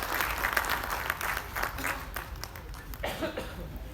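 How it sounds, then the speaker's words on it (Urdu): At an Arts Council Karachi tribute event for the poet Sheikh Ayaz, an audience claps as Muhammad Ahmed Shah is welcomed, scattered hands giving uneven, moderately loud applause with a cough or two mixed in. "آپ کی بہت ساری تالیوں میں محمد احمد شاہ۔"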